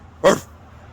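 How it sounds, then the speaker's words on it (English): A single short, sharp bark from a dog near a boatyard where a 1978 Sea Ray is being restored, fairly close and loud against a quiet background. "Hear the dog barking?"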